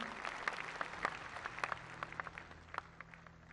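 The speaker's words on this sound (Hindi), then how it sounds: "जोरदार तालियों से इनकी हौसला अफजाई करें।" Applause at a government Digi Dhan Mela event in Delhi, heard faint and distant as scattered individual claps over a quiet hall background for a few seconds.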